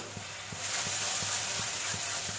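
Spices with salt and turmeric being stirred and sautéed in a kadai for a jackfruit and prawn curry: a steady bright sizzle throughout, with soft regular scraping strokes of the spoon roughly every third of a second.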